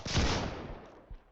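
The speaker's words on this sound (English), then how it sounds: "Let's just test out the double barrel shotgun again." A double barrel shotgun fires in a video game, one heavy close blast with a booming decaying tail, followed by a fainter secondary thump near the end.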